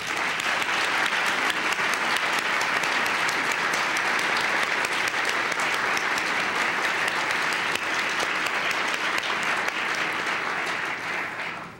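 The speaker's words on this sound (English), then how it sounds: "Please join me in applauding their accomplishments" Sustained applause at the NCAA Woman of the Year ceremony honoring student athletes, a full, continuous wash of many hands clapping at a steady level for nearly twelve seconds before trailing off at the very end.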